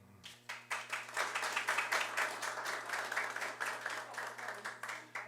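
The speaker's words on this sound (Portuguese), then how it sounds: "deixem os aplausos para o final das leituras dos nomes" An audience at a solemn municipal honors session applauds, with dense rapid clapping from many hands that swells quickly and stays steady, heard from a moderate distance in a reverberant hall.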